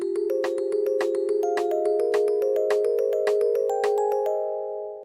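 One eighth section of a homemade music box programming wheel with 32 pin holes plays a short run of bright plucked metallic notes, evenly spaced and close, ringing out together and fading at the end.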